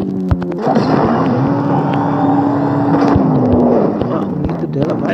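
Motorcycle engine in the street-racing video game Gangstar Vegas, a steady droning engine tone with a gradual pitch rise and fall, accompanied by clicks and game effects as the bike weaves through traffic.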